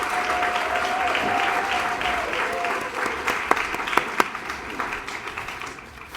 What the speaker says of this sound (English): another round of applause of appreciation for our President, CEO, Jerry Walker.